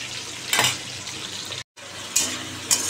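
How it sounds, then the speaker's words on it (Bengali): A fish curry with cumin powder, onion and potato sets on to cook, giving a steady close sizzle and bubbling with a few louder hissing bursts and one brief dropout. "মাছের ঝোলটা বসিয়ে দিলাম।"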